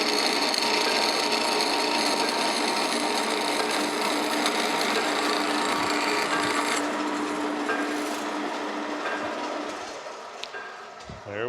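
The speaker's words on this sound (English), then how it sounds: "Clamp that down and we'll saw it away." A saw cuts through copper bar stock clamped in a vise while making copper soft jaws for an Emmert 6A toolmaker's vise. The loud, continuous rasping grind runs steadily and then eases off and thins out near the end. No one speaks.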